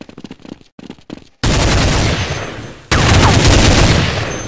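Gunfire in the video game Counter-Strike 1.6: a few quick clipped shots, then two loud sustained bursts of rapid fire that fill the remainder, harsh and close.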